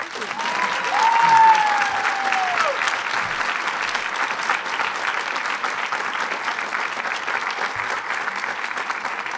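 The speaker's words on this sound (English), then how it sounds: "Let's give Kathy a round of applause." Sustained applause from a commencement ceremony audience fills the hall, loud and dense, swelling at first and then holding steady with little change.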